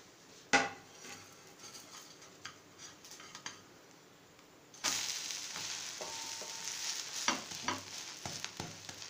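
Onion podi dosa on a hot pan after flipping: a faint spatula scrape and clink, then a sudden steady sizzle that continues with occasional light utensil taps.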